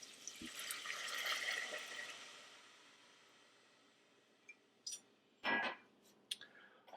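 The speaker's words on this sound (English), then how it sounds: "Now to that, we're going to add some water. And here I've got 2/3 cup of water." Two-thirds of a cup of water poured into a pan of sauteed onions, a soft wash of liquid at first, then a few brief clinks and splashes near the end.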